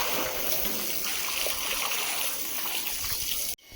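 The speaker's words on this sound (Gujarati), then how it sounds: "અત્યારે પાણીથી આપણે સટ ધોઈ રહ્યા છીએ" Water splashing and trickling as a surface is washed down before painting, a continuous close splatter and flow that cuts off abruptly near the end.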